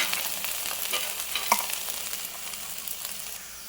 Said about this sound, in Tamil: ஒரு ஸ்பூனு தயிர் விட்டுக்கோங்க இதை வதக்கி விடலாம்